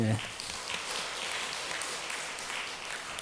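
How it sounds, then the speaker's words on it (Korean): A church congregation at a Wednesday mothers' prayer meeting claps to welcome a newcomer, a dense, steady round of applause filling the room for a few seconds. "자, 우리 박수로 한번"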